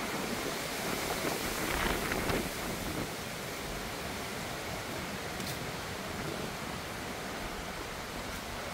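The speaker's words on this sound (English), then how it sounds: "The wind gusts have picked up a little bit." Strong, steady wind roars during Hurricane Milton as a broad, unbroken rush with a slightly louder gust near the start, no voices.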